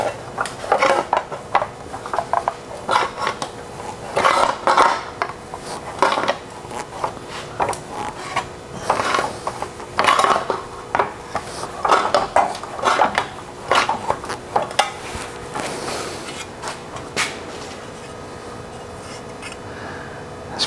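A lever-operated tucking tool bites into work-hardened 063 aluminum sheet, producing close, irregular metallic clanks, scrapes and creaks in repeated bursts with short pauses between strokes.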